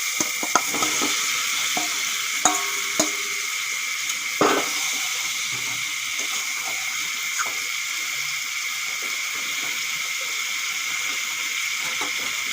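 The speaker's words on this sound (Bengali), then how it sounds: "এখন হলুদ লবণ মাখা মাংসটা দিয়ে দেব দেখুন" Chicken coated with turmeric and salt fries in spice paste, giving a steady, hissing sizzle close by with a few light clicks and knocks and no talking.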